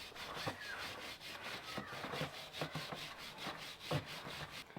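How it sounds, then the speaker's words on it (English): A brush scrubs back and forth over the greasy chain of a BMW F900R motorcycle, a quiet rhythmic rasping with regular strokes and no talk. "grab the brush and go ahead and start scrubbing"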